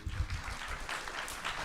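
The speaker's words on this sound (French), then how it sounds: "Je crois qu'on peut vraiment l'applaudir." Audience applause after a conference talk at an environmental health festival, a steady, dense wash of clapping held at even loudness throughout the short moment.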